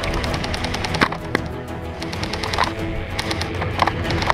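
Airsoft guns crack in rapid bursts during an airsoft game, with several sharp shots standing out over a dense, noisy outdoor background and no talk.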